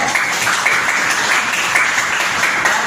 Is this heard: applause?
yes